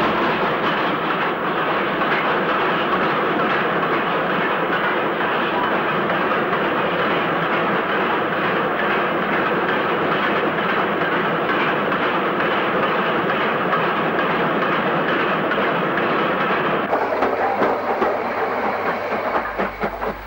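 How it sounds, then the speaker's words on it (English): A 1960s steam locomotive, number 48477, hauls a freight train tender first with a loud, continuous rumbling roar and hiss of wagons passing close by, steady throughout and briefly shifting near the end. "The 48477 braves the elements tender first with the freight."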